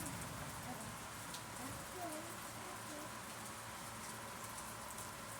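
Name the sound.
rain during thunderstorm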